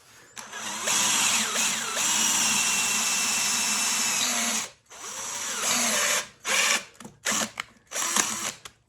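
A power drill bores through a 5 mm scrap metal plate with a long, loud whining grind, pauses, then runs again in several shorter bursts as the bit works through the steel.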